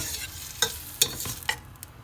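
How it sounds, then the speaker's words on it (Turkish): Onions sautéing in olive oil with a soft sizzle, scraped and stirred by a tablespoon in a few distinct strokes that stand out over the frying. "Soğanımız pembeleşene kadar bir yemek kaşığıyla kavuruyoruz güzelce."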